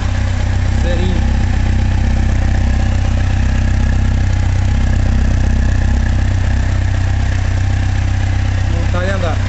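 A 2011 Kawasaki Z750 four-cylinder motorcycle idles steadily and evenly up close, a continuous low engine hum with no revving throughout.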